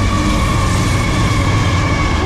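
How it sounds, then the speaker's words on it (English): A Norfolk Southern freight train led by AC44C6M locomotives passes close at speed in Edison, New Jersey, with a loud continuous rumble and engine drone. "Train 261, hammer down."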